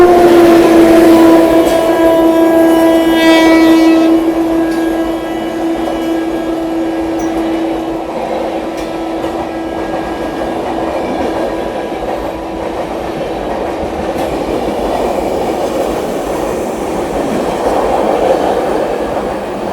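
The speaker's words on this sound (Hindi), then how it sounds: "अपनी ब्रह्मपुत्र मेल को ओवरटेक करने आ रही है दोस्तों महाबोधि एक्सप्रेस, गया नई दिल्ली महाबोधि एक्सप्रेस" The Gaya–New Delhi Mahabodhi Express sounds a long horn blast, then roars past at Tundla Junction while overtaking the Brahmaputra Mail. A steady, close rumble of wheels and carriages continues to the end.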